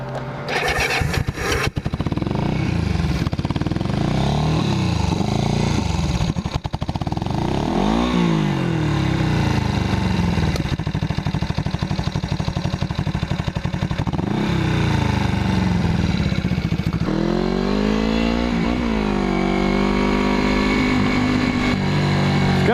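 A 1981 Yamaha XS400 Heritage motorcycle on a test ride roars loud and close, its engine revving up and down through repeated acceleration sweeps and gear changes, with no voices.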